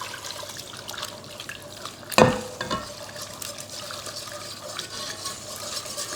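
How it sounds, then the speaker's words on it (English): A whisk stirs a warm strained milk mixture in a pan as it thickens for a fish pie sauce, making soft, continuous liquid swishing. There is one sharper clank of metal partway through. "whisk it well to remove all the lumps"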